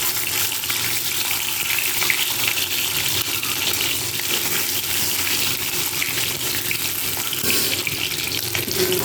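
Water runs steadily from a tap over a stone grinding slab as it is rinsed clean in a kitchen after grinding bottle gourd leaves, a continuous close splashing gush with no talk.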